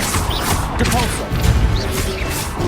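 A Repulsor blast in Hogwarts Legacy lands as a crashing thump amid constant battle noise, with short shouts and effort sounds from characters over the din.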